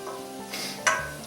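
Steady sizzling of onion frying in a hot pan, with a brief stir or scrape partway through, close up.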